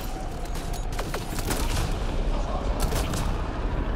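Shotgun fire in the sci-fi shooter Mass Effect: Andromeda during a firefight with Kett enemies, heavy booming blasts layered over a constant dense roar of combat noise with no clear gaps.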